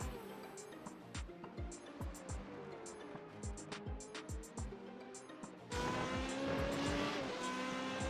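A race car in Red Bull livery at a Race of Champions event screams past at speed, its engine note rising and falling through gear changes with rhythmic low pulses, growing louder and fuller near the end.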